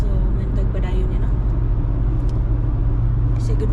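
A car on the road home hums with a steady, loud low rumble from engine and tyres, heard from inside the cabin and continuous throughout, with faint higher rattles briefly rising above it.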